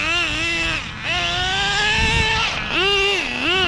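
A nitro-powered Traxxas X-Maxx RC car screams past at high revs on a dirt track, its engine pitch rising and falling sharply in three distinct bursts, loud and close, with a brief dip in between.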